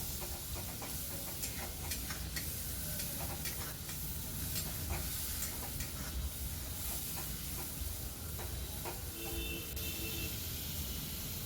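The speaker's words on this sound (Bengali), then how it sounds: "এবার ওই তেলেই যে পেস্টটা বানিয়েছিলাম সেটা দিয়ে খুব ভালো করে কষাতে থাকবো।" Spice paste fries in hot oil, left over from frying potatoes, for a Bengali mutton and potato curry. It makes a steady, dense sizzle and hiss throughout, with faint scraping stirs and no talk.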